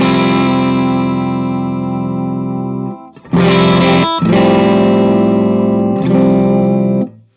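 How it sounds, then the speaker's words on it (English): Electric guitar through a Vox-style Dartford amp model with overdrive, bright driven chords ringing out, a brief pause, then several more strummed chords, loud and alone. "Let's go ahead and check out the Dartford or the Vox Style"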